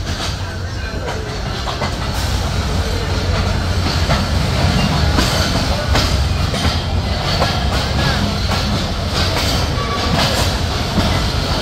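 Banglabandha Express train rolling into Abdulpur Junction, a steady loud rumble of wagons with rhythmic clickety-clack over the rails and a faint squeal, continuous for the whole stretch.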